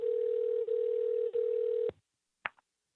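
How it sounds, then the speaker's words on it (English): A steady electronic telephone tone sounds in three long pulses with brief breaks, then cuts off, followed by a short click. "Oh, I love when you guys can hear the ringing."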